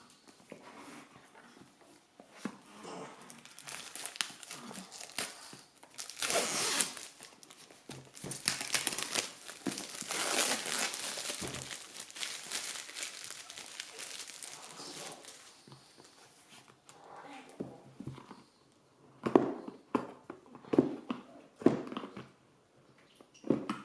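A rigid, hard tarot card box for L'Héritage du Tarot Divin deck is opened and unwrapped: a long stretch of close, fairly loud crinkling and rustling, then scattered clicks, taps and handling noises.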